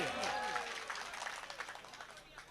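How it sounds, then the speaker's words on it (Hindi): Applause rises from the audience at an All India Mushaira poetry gathering in Jabalpur, a broad wash of clapping under a brief sustained tone at the start, steady for a few seconds. "एक बार जोरदार तालियां तबरेज भैया के लिए"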